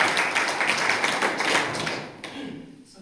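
An audience at a school gathering gives a round of applause, a dense, lively patter of many hands close by that holds steady and then thins and fades out toward the end.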